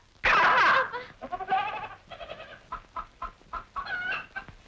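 Goats bleat and chickens cluck in a lively farmyard mix, opening with a loud burst and then a run of shorter bleats and clucks close by.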